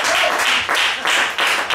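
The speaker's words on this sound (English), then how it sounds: "clap your hand and give God" A church congregation claps together in a steady rhythm, loud, close bursts of clapping repeating roughly three times a second.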